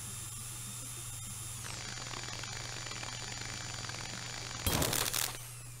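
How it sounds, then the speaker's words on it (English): Drilling into the demon core in the Stories Untold video game: a short, loud, harsh grinding burst near the end, over a steady electronic hum and faint static. "Time to drill the demon core,"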